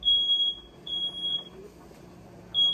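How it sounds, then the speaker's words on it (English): A household smoke alarm sounds indoors with repeated shrill high-pitched beeps, fairly faint and steady over a low background hum, with no talk. "we got a fire alarm going off"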